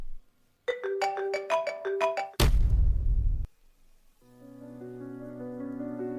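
A mobile phone ringtone plays as a quick run of bright chiming notes, broken by a loud burst of noise, then a sustained electronic tone continues alone.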